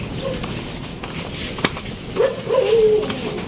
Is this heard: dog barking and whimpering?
yes